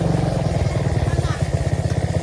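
A motorcycle engine runs steadily at close range, its rapid, even putter pulsing throughout with a rough mechanical clatter and no pauses.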